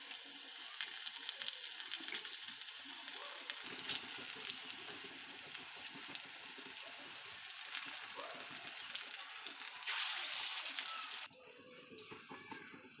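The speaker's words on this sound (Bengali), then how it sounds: "এবার তেল গরম হয়ে গিয়েছে, বড়ার মতন করে ভেজে নেব" Beef tikia coated in gram flour fries in hot oil, giving a steady, close hiss and crackle of bubbling oil that carries on evenly throughout.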